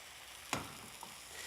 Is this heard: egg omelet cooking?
yes